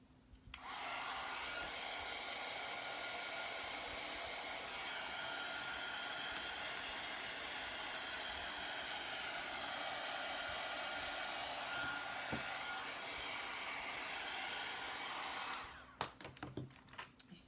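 A hair dryer blows steadily to dry paint, a loud continuous whooshing roar that runs for about fifteen seconds, then cuts off, leaving a few small clicks and handling knocks.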